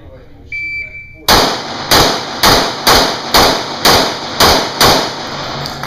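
Eight sharp gunshots fired at bowling pins on a shooting range, evenly spaced about two thirds of a second apart, loud and close after a short electronic beep starts the string.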